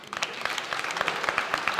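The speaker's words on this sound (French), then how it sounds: "d'accueillir et d'applaudir fortement la candidate numéro 10" Brief burst of applause from a conference audience welcoming a candidate, a crowd clapping at moderate volume with distinct individual claps standing out.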